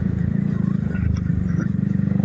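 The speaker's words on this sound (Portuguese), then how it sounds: "Coloquei escapamento esportivo." Motorcycle fitted with an aftermarket sport exhaust, a steady deep low rumble holding close and loud throughout at idle or light throttle, alone without talk.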